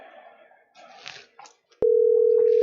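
A telephone ringback tone on an outgoing call, a single loud steady electronic tone cutting in sharply after a moment of faint indistinct room sound.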